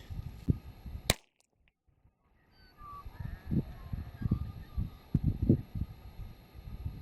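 A .22LR rifle fires a single CCI standard velocity target round outdoors, a sharp, brief crack followed by a moment of near silence and then low shuffling and handling noise nearby.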